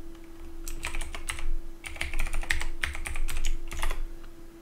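Rapid typing on a computer keyboard, close and clear, with dense clusters of key clicks running steadily throughout over a low constant hum.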